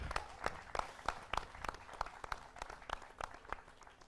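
A theatre audience claps in a steady, rhythmic beat, evenly spaced sharp claps repeating about three times a second, distant and fairly quiet, with no talk over it.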